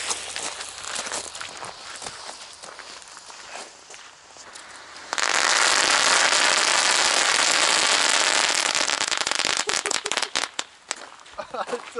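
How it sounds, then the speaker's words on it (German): A Pyro Factory Lady Cracker 5-shot Hexenring firecracker ring goes off in a dense, loud burst of rapid crackling bangs lasting several seconds, following quieter outdoor crackle and scattered pops at New Year's Eve. "ein 5er Hexenring von der Lady Cracker von Pyro Factory."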